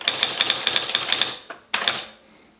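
An Esselte 80 electric typewriter strikes out a quick string of sharp, loud, close mechanical keystrokes in steady rhythm. After a brief pause, a second short burst of clacks follows.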